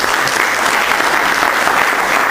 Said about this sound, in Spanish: quiero que le agradezcamos con un fuerte aplauso